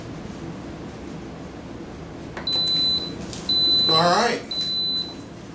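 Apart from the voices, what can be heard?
Instant Pot Duo Crisp air fryer control panel beeps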